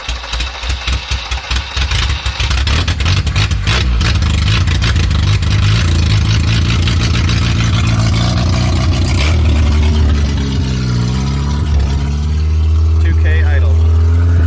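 A Ford Festiva rally car engine cranks and catches, then runs roughly on a single cylinder in a loud, steady, uneven idle, with speech over it.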